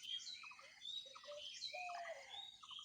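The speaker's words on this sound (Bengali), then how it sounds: "ওইখান থেকেও পাখির শব্দ শোনা যাচ্ছে" Birds calling from a reed forest beside a village canal, a few faint, distant chirps and short whistled notes over a quiet background.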